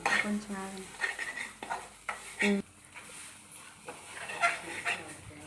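Grated coconut curry frying and being stirred in a pan, with intermittent scraping stir strokes and a soft sizzle throughout, close and moderate, under occasional talk.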